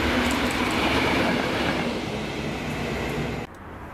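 Class 73 light locomotive 73966 rumbles past close by on a Scottish line, a loud steady roar with wheel clatter that eases before cutting off abruptly near the end.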